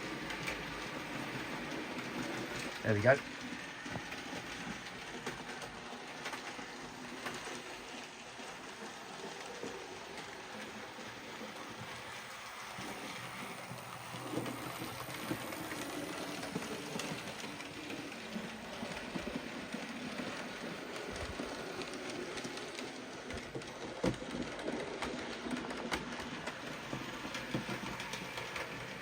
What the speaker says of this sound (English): I'll stop the mineral train on track 2